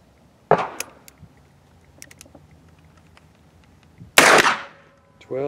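Two loud, sharp shots from a .44 Magnum revolver with a 9-inch barrel ring out several seconds apart, with quiet handling noises between them.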